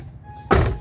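A single solid thunk of a 2016 Isuzu Panther LS Turbo car door being shut, short and close, after a moment of near quiet.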